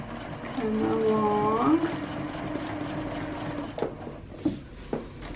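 Sewing machine back stitching the borders of a beginner quilt, a soft continuous mechanical whir at close range with someone speaking over it.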